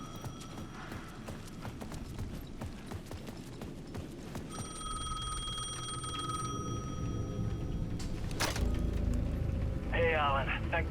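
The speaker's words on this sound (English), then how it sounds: "The payphone at the edge of the plaza was ringing again." Payphone ringing at the edge of a plaza in the video game Alan Wake 2, repeated bell rings among ambient clatter and rumble, with a voice speaking partway through.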